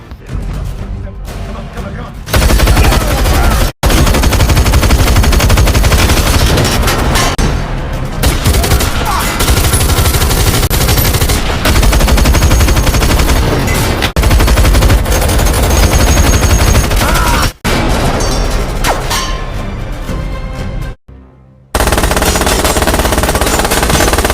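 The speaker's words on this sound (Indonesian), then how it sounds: "Namun tiba-tiba Hill muncul dari belakang menembak mereka semua." A heist film shootout at a depot where robbers are gunned down from behind, with loud, dense rapid gunfire and booming shots running almost nonstop, broken by a few brief silences, as a voice narrates over it.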